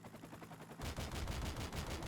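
Rapid gunfire in Modern Warfare 2 Remastered, starting as faint shots and turning into a loud, dense burst of automatic fire partway through, with no talk over it.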